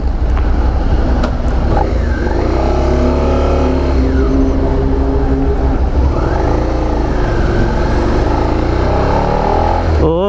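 A Suzuki SV650 V-twin sport motorcycle engine revs and accelerates on a ride, a loud steady drone with rising and falling pitch sweeps as it works through the gears, with wind noise throughout.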